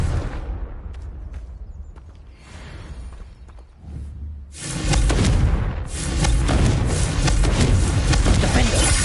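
A Confringo fire spell from Hogwarts Legacy goes off in heavy booming blasts, a quieter rumbling stretch giving way to a loud sustained burst of explosive noise.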